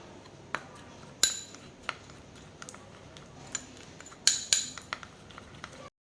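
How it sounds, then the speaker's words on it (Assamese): Homemade facial scrub ingredients are stirred in a bowl, with sharp clinks of a spoon against the dish scattered irregularly over a quiet background, including a brief cluster of knocks toward the end. "এতিয়া এইখিনি ভালদৰে অলপ মিক্স কৰি লম।"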